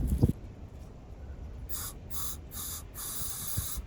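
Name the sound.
spraying starting fluid into pressure washer engine carburetor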